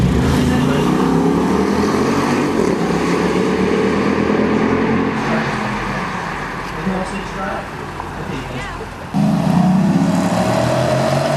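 Dodge SRT car driving off at an SRT driving experience event: a loud, steady engine drone with a strong low rumble that dips slightly midway and swells again near the end, with talk over it.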